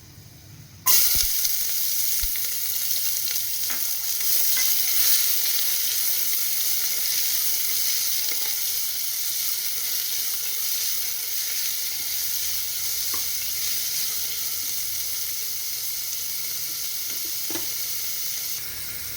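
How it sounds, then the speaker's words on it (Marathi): A bowl of chopped onion for white pulao hits hot oil and fries in a pan, a loud, continuous, even sizzle that starts abruptly and holds steady throughout, with faint occasional stirring ticks. "कांदा छान असा परतून घ्यायचा"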